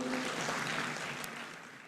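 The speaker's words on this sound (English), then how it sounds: "Another round of applause for" Audience at a Ugandan economic competitiveness forum gives another round of applause for a minister and professor, a faint, continuous wash of clapping that slowly tapers.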